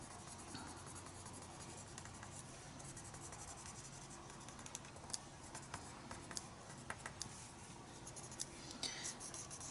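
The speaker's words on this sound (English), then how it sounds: "This is like one of those dollar store pencils, the mechanical pencils." A cheap dollar-store mechanical pencil with hard lead scratches steadily across paper while a face is drawn, a faint, close, continuous rasp with occasional sharper strokes over low background hiss.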